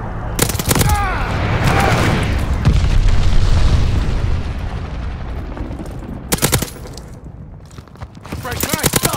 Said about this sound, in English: Glide bomber assist coming in.